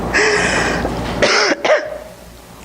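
A person coughs in two short, harsh bursts, close and loud, followed by a quick rasping throat sound, with no talking around it.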